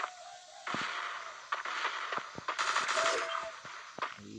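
Rapid gunfire bursts from a new weapon in the shooter game Garena Breakout, sharp repeated cracks in quick volleys loud in the foreground, with a short lull and then a denser burst near the end.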